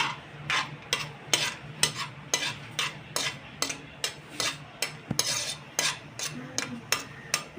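Cashews fried in ghee for wheat halwa, with a spoon scraping and stirring the pan in a steady rhythm of sharp strokes over a soft, continuous sizzle.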